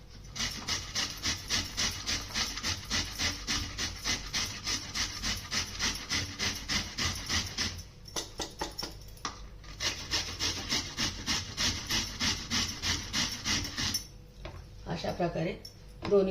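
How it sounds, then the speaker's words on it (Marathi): Beetroot is grated on a fine grater in quick, steady rhythmic rasping strokes, close and continuous with a brief pause midway, and someone speaks near the end. "आता हे बारीक किसणीने ना इथून असं बीटरूट किसून घेतली"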